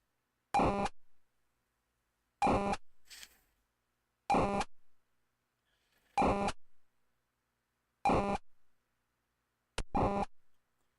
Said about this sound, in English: It's probably an alarm going off, actually, at a shop in Walthamstow in London.